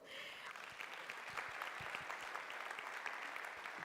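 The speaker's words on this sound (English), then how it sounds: "Please give a warm round of applause" Sustained audience applause at a conference in eThekwini greets the deputy chair of a municipal committee as she comes to the stage, a steady dense wash of many hands clapping, fairly distant and even throughout.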